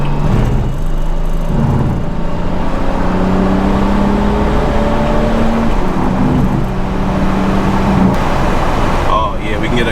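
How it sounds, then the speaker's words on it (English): A car's exhaust burbles and rumbles steadily inside an enclosed road tunnel. The loud, low drone echoes and varies slightly in pitch while accelerating, and faint talk can be heard beneath it. "Get a good tunnel burble for you guys."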